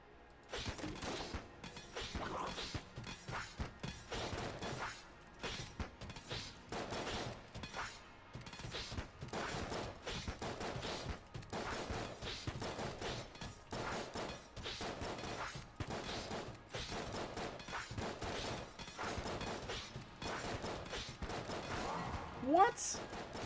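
Rapid, sustained gunfire from a pulse cannon in the twin-stick shooter Enter the Gungeon, a dense stream of bursts running nearly continuously with brief pauses, loud and close, layered with other game effects.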